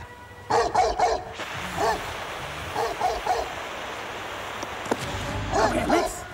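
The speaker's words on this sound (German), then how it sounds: "Lässt du jetzt aufhören zu bellen oder nicht?" A junkyard guard dog barks in repeated bursts of several loud barks, pausing between volleys, with a steady background hiss like surf or wind and no talking over it.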